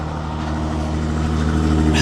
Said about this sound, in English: Let's take a listen to that engine